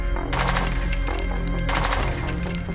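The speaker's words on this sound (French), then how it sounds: "des coups de feu s'entendent" Bursts of gunfire crackle and roll in a firefight between soldiers and fleeing fighters in the bush, with dense overlapping shots and loud continuous rumble throughout.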